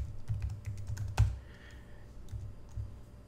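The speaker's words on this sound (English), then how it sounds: "But then you go ahead and type in a password here." Quiet, steady keystrokes on a computer keyboard as a password is typed, with one sharper louder click partway through.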